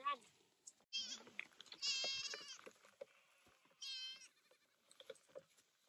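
Goats in a barn with new kidding and weaning stalls bleat loudly in several wavering calls, some overlapping, close by, with a person talking in between.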